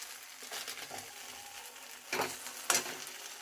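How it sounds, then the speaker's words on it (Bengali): Onion, ginger, cashew and poppy seed paste fries in a pan for jackfruit kofta curry, a faint steady sizzle with a couple of louder scrapes of a spoon near the end, close by, without speech. "এটিকে ভালো করে কষিয়ে নিতে হবে"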